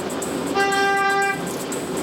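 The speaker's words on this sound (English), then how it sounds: "No point honking me." A single sustained car horn blast, about a second long, sounds over steady road noise in traffic while a learner driver hunts for a U-turn lane.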